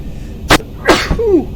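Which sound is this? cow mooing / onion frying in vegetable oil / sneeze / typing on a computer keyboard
sneeze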